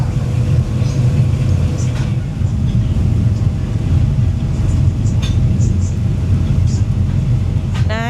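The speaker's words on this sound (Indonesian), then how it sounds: "Ini merupakan kereta api pertama di Sabah dan satu-satunya." The Borneo Jungle Train in Sabah running at about 50 km/h, a steady, loud rumble and clatter of the carriages rolling along the rails, continuous throughout with occasional faint squeaks over the drone.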